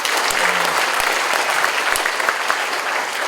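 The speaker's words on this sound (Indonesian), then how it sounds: "Tepuk tangan" An audience at a hackathon event claps steadily throughout, a dense, even burst of applause with a few louder individual claps and brief low thumps.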